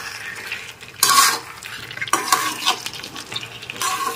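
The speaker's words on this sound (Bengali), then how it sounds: "এবার ভালো করে নেড়ে চেড়ে মিশিয়ে নিচ্ছি।" Restaurant-style chilli chicken with vinegar is stirred and tossed in a frying pan, sizzling under loud bursts of scraping and clattering utensil strokes, close and irregular with no talk.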